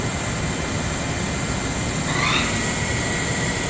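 Yama Seiki VP-2012HD CNC bridge mill spindle running at 2,500 RPM, a loud continuous whirring drone with a steady whine on top and a brief rising tone partway through, close and unbroken, with no talk.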